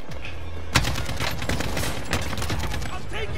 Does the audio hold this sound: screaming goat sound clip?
no